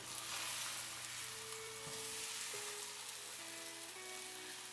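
Scrambled eggs with shrimp sizzle and fry in a pan, a soft steady crackle, with faint stirring and a few thin tonal squeaks from the pan.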